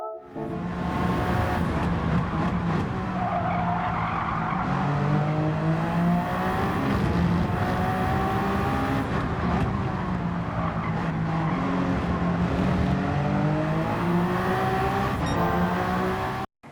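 Race car engine in a racing video game, a steady loud drone with rising and falling pitch as the throttle is worked through shifts, continuous for the whole stretch with no talk.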